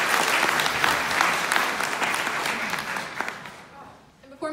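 An audience at a congressional forum claps in a sustained round of applause that gradually fades out near the end, with a voice beginning to speak as it dies down.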